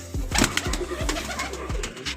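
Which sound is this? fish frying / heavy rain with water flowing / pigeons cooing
pigeons cooing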